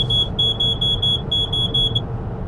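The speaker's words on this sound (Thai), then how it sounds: "เกินสปีดลิมิตที่ในรถตั้งไว้นะครับ" An XPENG G6 electric car's over-speed-limit warning chimes as a rapid series of high, clear beeps in short bursts, loud inside the cabin over road and tire rumble while driving at highway speed.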